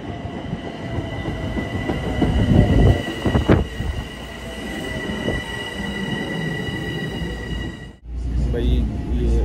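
A train pulls into a station on a cold day, its wheels rumbling and squealing steadily on the rails with loud surges, then a sudden drop before the roar resumes, while people talk nearby.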